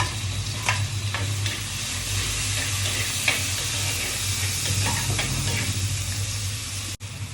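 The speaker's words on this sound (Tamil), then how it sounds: "இப்போ இதுக்கு தேவையான தக்காளி போட்டுருவோம்." Chopped tomatoes go into a pan of sliced onions frying in oil for a beef gravy, giving a steady loud sizzle with occasional stirring clatter throughout, no talking.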